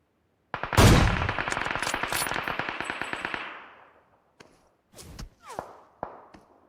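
Video game gunfire in a Turkish multiplayer shooter match: a loud, close, sustained automatic burst of rapid rhythmic shots lasting about three seconds, then a few scattered single shots and thuds, with no talking over it.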